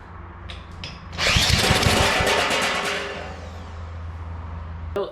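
An old abandoned garden tiller engine being pull-started, a loud rising rattle as the cord is yanked that briefly kicks over, then trails off into a low idle hum with a sharp click at the end.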